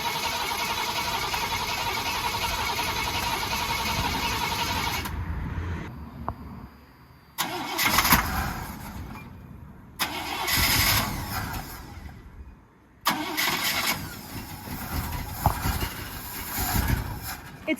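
A Chevrolet K10 truck engine cranks in bursts with pauses between attempts, then catches and runs roughly, loud and close, with no talking.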